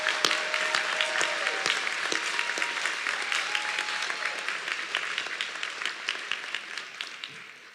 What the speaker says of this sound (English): Please help our graduates and I give the staff at Harold Ferguson High School one more well-deserved round of